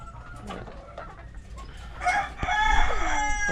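Chickens cluck softly in a backyard and a rooster crows loudly near the end, close by, with no talking.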